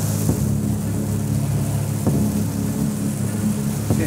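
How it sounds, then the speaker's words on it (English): Heavy rain in the American Deep South, a dense steady hiss with a low rumbling bed, close and continuous throughout with a few faint knocks. "You don't get rain like this, this is preposterous."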